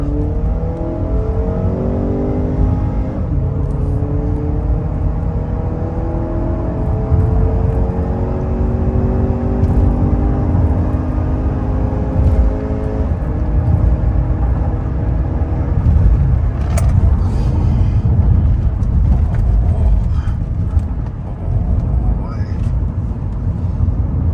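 Honda Accord G9 with a 2.0 engine, tuned for E20 and LPG and running on gas with the air conditioning on, drones and revs steadily while driving, with rising and falling engine tones throughout and a person talking over it.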